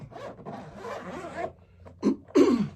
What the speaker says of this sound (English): The zippers on these bags are good, solid.